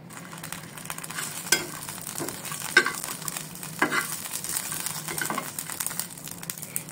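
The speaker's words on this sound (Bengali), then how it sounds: "এখন আমি তেল তো দিব না, এমনি তাওয়াতে মরিচগুলো ভেজে নেব" Green chilies dry-fry on a tawa without oil, a soft steady sizzle with occasional stirring scrapes and small clinks, close and fairly quiet, with no talking.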